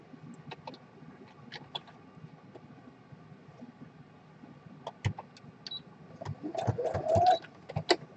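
A sewing machine stitches torn fabric scraps across the top of a tag in short, intermittent bursts of rapid mechanical whirring, with quiet pauses between runs and a louder stretch near the end.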